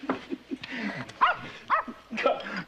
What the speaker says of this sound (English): Call off your dog, Bossy.